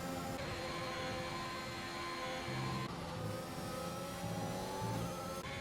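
Formula 1 car engines race in F1 2021 at the Portuguese Grand Prix, a steady loud high-revving drone with rising and falling gear-shift pitch throughout, one car overtaking another.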